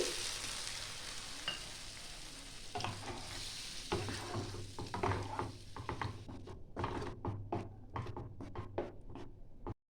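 Boiled potatoes sizzle in a pan as a spoon scrapes and stirs them in quick, rattling strokes, the clatter growing sharper and more rapid toward the end, close up with no voices.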